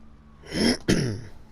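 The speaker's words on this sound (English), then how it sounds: "Sorry about that cough." A single throat clearing followed by a harsh cough, close and fairly loud, with quiet background before and after.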